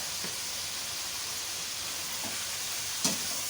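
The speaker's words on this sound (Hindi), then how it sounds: "अच्छी तरह से भुनाई कर लें तमाम स्पाइसेस के साथ" Ground coriander, whole cumin and black pepper frying in a pan for masala chicken, giving a soft, constant sizzle and hiss with a few faint stirring touches.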